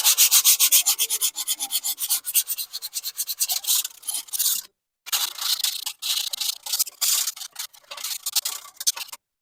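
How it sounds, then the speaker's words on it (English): Sandpaper rubs back and forth across the emergency brake pads of a 2015 BMW X5 (F15) in quick, rhythmic, close strokes, with one brief pause midway. "I'm just gonna take them down with some sandpaper a little bit."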